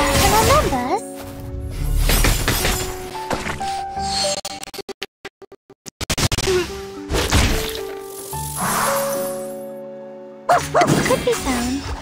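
A puppy in the video game Reverse: 1999 gives short yips and barks between game chimes and sharp hits, with brief silent gaps and a spoken voice around it.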